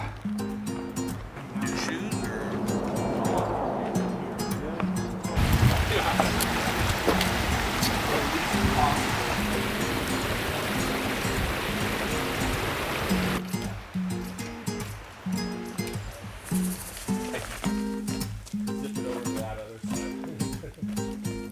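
A rushing mountain creek at a trail crossing on San Gorgonio flows loudly for several seconds in the middle, with talking before and after and softer water noise underneath.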